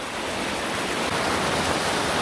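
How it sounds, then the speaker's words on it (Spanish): A waterfall on the Río Verde at Otívar, Granada, a loud, dense, unbroken roar of falling water heard close up, with no talk. "Otra pedazo de cascada, de la buena, de la que te gusta, está debajo de ella."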